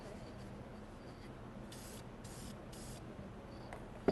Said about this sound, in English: So is that just like a pigment spray type?